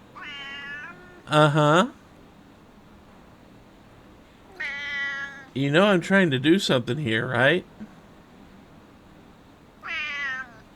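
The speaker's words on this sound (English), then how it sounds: "The cat is literally standing on the mouse." A cat meows repeatedly in short rising calls near a computer, some drawn-out and pleading, alternating with someone talking over it.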